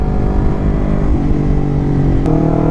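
Honda CBR 250 RR motorcycle fitted with an Aero aftermarket exhaust, its engine droning steadily and close by with a rich, constant rumble, briefly stepping up in pitch near the end.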